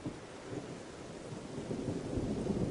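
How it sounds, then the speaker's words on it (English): Rain falls steadily at a train platform as thunder rumbles low in the background, a soft, continuous wash that swells slightly toward the end, with no voices. "It starts to rain."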